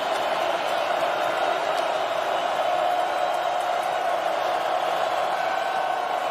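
A football stadium crowd at an FCS quarterfinal between Montana State and Idaho, roaring and cheering steadily at a distance, a dense wash of noise with no breaks.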